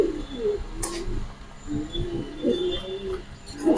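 Pigeons at a farm in Mirpur 13 coo repeatedly in low, throaty bursts, a steady close-up chorus with faint chirps above a light background hum.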